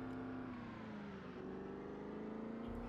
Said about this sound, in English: Oh, I hate that, dude. That, like, high revving.